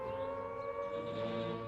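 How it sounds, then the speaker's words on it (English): An air raid siren from wartime Britain holds a steady, sustained wailing tone throughout, loud and alone with no voices over it. "When you hear the sirens or anti-aircraft guns, you must get under cover at once."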